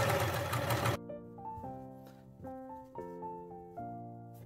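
A sewing machine top stitching a baby beanie cap runs in short bursts after a loud opening rustle, its motor whirring steadily with pitch shifts as it starts and stops, close and clear.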